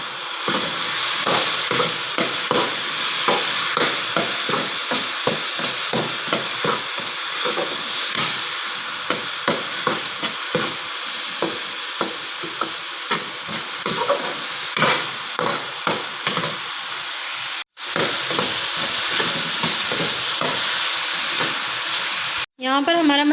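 Masala with dried fenugreek frying in a pan for restaurant-style aloo palak, a loud, steady sizzle and hiss running throughout with frequent small crackles and two brief dropouts.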